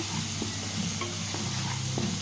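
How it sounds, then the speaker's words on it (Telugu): Ginger sizzles steadily in hot oil in a pan while being stirred, the start of a chicken fry, with faint scrapes of the spoon breaking through the continuous frying hiss at close range. "అల్లం పచ్చివాసన పోయే వరకు వేపుకుందాం"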